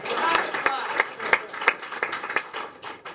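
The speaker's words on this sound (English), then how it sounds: "You have to clap after the sponsor." Scattered clapping from an audience at a VR film showcase, a few sharp individual claps standing out over a thin, uneven patter with some murmured speech mixed in.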